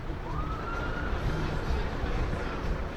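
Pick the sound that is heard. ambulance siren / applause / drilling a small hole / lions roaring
ambulance siren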